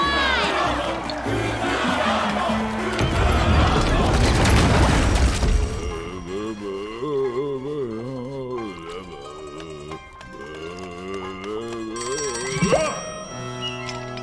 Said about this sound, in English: Everybody keep cheering Kataro